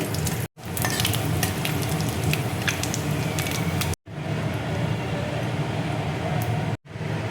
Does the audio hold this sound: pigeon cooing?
no